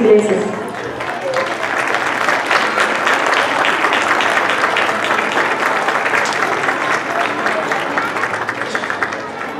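A crowd at a school's fiftieth-anniversary ceremony applauds honorees with sustained, loud clapping that holds evenly throughout, mixed with a low murmur of crowd noise.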